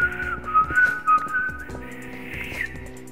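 A person whistles a short, wavering tune in a quiet room, the thin tone rising and falling over about three seconds with soft breathy gaps and no speech.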